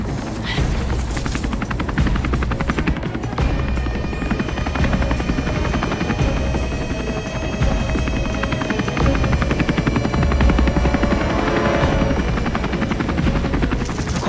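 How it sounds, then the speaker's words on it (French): A helicopter's steady rotor thrum fills the scene, loud and continuous, with rapid bursts and crackles over it like distant gunfire. "D'où est-ce qu'il vient, cet hélicoptère?"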